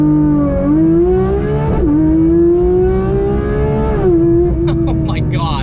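A Porsche 992 911 GT3 launches under launch control, its engine screaming loud and close as the pitch climbs, drops sharply at each of several quick upshifts, then climbs again.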